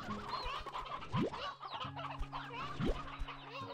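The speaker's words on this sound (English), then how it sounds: "Look at all those chickens!" A flock of chickens in the video game Slime Rancher 2 clucks and murmurs in overlapping calls. Two quick rising whooping game effects sound on top.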